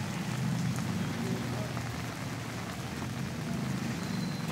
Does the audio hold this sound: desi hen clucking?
no